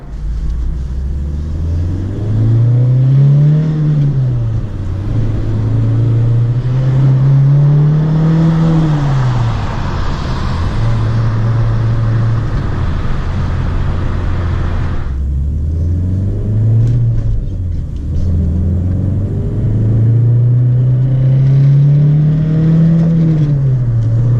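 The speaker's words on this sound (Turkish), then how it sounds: "4000 devirde şu anda aracın içindeki ses oldukça yüksek." A Fiat Tipo 2.0 16v Sport engine revs hard again and again to around 4000 rpm, the pitch climbing and falling in long sweeps, loud and droning as heard from inside the cabin.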